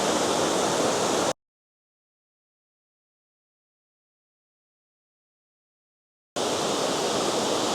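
Mingo Falls waterfall rushing as a steady broadband roar close by, heard in two short stretches separated by a long gap of complete silence.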